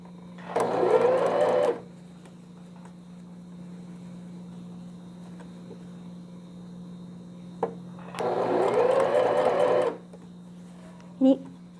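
Sewing machine stitching fabric for a newborn vest, with two rapid mechanical runs of about a second and a half each, a steady electrical hum and a short burst near the end in between.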